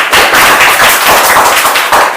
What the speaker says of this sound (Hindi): बहुत सही, ताली बजाना भाई।